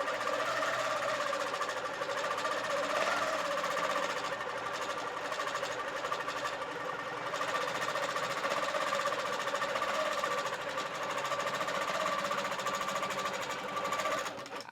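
A sewing machine stitches a quilt from the center out toward the edge, running as one steady, continuous drone at close range for the whole stretch, with no pauses and no talking.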